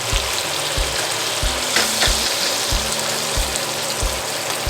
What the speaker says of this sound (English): we're just going to baste it